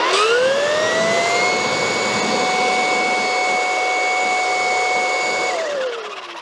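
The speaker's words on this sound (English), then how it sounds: "So I have my Ryobi 40 volt with the blower attachment." A Ryobi 40-volt cordless blower roars steadily at a portable solar panel, a loud whining rush with a rising tone at startup that holds, then drops away as the motor winds down near the end.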